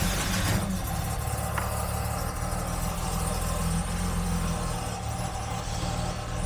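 Jaguar XJ6 engine running steadily just after starting up, a continuous low idle rumble with a brief sharper transient near the beginning, fairly loud and without talk.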